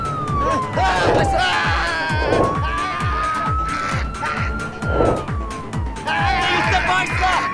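An ambulance siren wails loudly and keeps sweeping up and down over heavy traffic and engine noise in a street scene.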